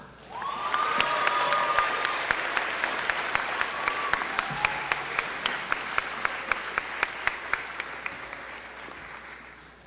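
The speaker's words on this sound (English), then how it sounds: "Let's give a big round of applause to Wilson Chow." An audience at a high school senior awards night on Maui applauds award recipient Wilson Chow, a loud, sustained wash of clapping that swells quickly and holds steady for about ten seconds, with faint voices and a brief whistle mixed in.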